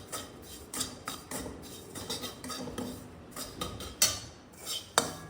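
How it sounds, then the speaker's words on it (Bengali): Semolina is stirred and fried in ghee in a pan at home, with close scraping and irregular clinks of a metal spoon against the pan and a couple of sharper knocks near the end. "ঘি দিয়ে সুজি ভাজছি"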